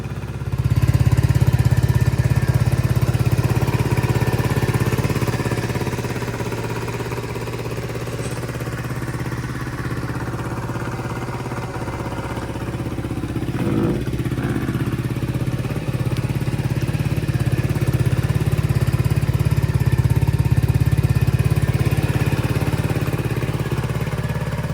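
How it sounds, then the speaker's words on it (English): A SYM Symba 100, a Honda Cub C90-style small motorcycle, drones steadily while being ridden, with a continuous low, buzzing engine note and wind rush that dips briefly and then rises again, with no talking. "So let's see how this bike rides. The SYM Symba 100,"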